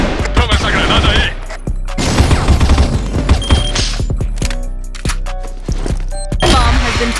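Loud game battle sounds from the shooter CrossFire, with a heavy grenade explosion among dense bursts of gunfire and clattering mechanisms, booming thuds spread across the clip under busy in-game action.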